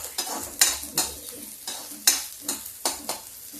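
Garlic, ginger, onion and green chilli fry in a kadhai, a close crackling sizzle punctuated by about eight rhythmic stirring scrapes of a spoon against the metal.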